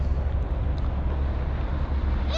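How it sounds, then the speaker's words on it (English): Steady, heavy roadside wind in Wyoming buffeting the microphone, blowing dirt around, a continuous low roar with no pauses, close and loud throughout. "It's very windy. It's blowing dirt and everything all over the place."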